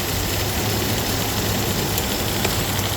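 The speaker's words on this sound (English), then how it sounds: "AC compressor is working" A 2018 Dodge Durango idles with its AC compressor running, a steady close engine drone with a constant hum and no talk.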